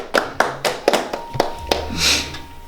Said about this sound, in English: Can we give like a round of applause for Vinny?